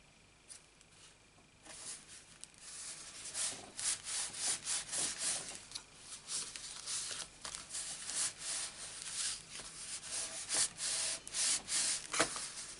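A folded paper card for a Stampin' Up fancy fold gets burnished. Close, scratchy rubbing strokes repeat in bursts along the crease, with short pauses between passes.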